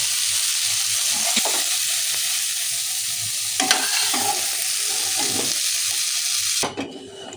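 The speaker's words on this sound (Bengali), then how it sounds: "ওই তেলটাতেই বাকি যে সবজিগুলো ছিল ওইগুলোও ভেজে তুলে রাখবো" Vegetables for sukto fry in oil in a pan, a steady close sizzle broken by several scraping stirs of a spatula, ending abruptly after about seven seconds.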